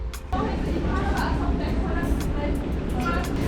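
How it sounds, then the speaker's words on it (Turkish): Rumble and clatter inside a crowded train to Munich, Germany, steady and loud, with people talking and murmuring over it. "Şimdi Münih trenine bineceğiz."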